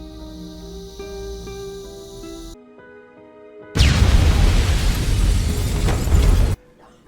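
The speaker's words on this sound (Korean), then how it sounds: "가스 폭발로 날아가 버린 올렉의 집" A house blown apart by a gas explosion in a dramatic film scene: tense music cuts to silence, then a sudden loud blast roars into a sustained rumbling burst of debris lasting a few seconds before cutting off.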